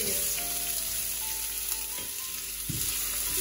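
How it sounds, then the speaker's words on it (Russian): Chopped bell pepper tipped into two to three tablespoons of hot vegetable oil in a skillet, giving a steady close sizzle with faint stirring scrapes and no voices. "Добавляем 2-3 столовых ложки растительного масла. И первым высыпаем в сковороду перец."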